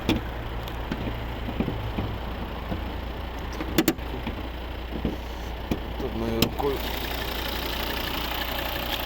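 A 2012 Volvo XC70 2.4-litre D5 diesel engine with automatic transmission idles with a steady low rumble throughout, with a few brief clicks and knocks and a voice talking over it.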